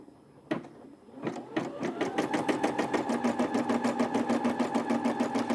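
Brother SE600 embroidery machine with a repositionable hoop stitching a snap tab or key fob design, starting with a few isolated clicks, then settling into a rapid, even mechanical chatter close by.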